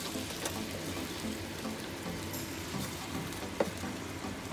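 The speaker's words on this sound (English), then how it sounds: "It's okay to get some of that pasta water in there." Starchy pasta water pours and trickles into a warm carbonara pan with the heat off, a soft, steady wash of liquid with a small clink near the end.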